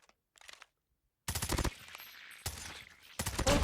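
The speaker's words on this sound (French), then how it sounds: "Regardez maintenant le deuxième effet d'élimination." Video game gunfire for a kill elimination effect with a throwing knife-themed weapon, heard as loud bursts of rapid shots with a brief faint burst first, then a silent gap and three strong volleys.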